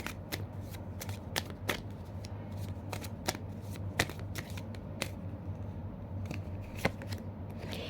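A deck of Angel Answers oracle cards is shuffled by hand, giving a steady soft riffling with repeated crisp flicks and snaps of the cards, close up, with no talking.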